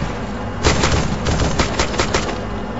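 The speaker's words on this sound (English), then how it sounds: "Exchange of fire inside there." Rapid automatic gunfire crackles in a video game firefight inside a building, a dense burst of close, loud shots starting abruptly and continuing in quick volleys, with no talk.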